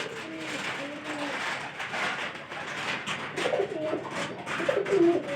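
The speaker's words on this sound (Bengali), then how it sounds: "ভালো কবুতর যেটা শক্তিশালী কবুতর" Pigeons coo softly and repeatedly in a domestic loft, low rolling calls overlapping at close range against a quiet background hum.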